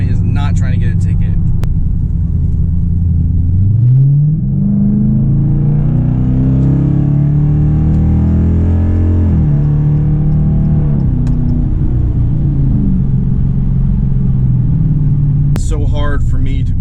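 Modded Dodge Challenger accelerating hard onto a highway, a deep engine rumble rising in pitch through a pull, with a gear change partway, loud and close from inside the car; a voice speaks briefly near the start and end.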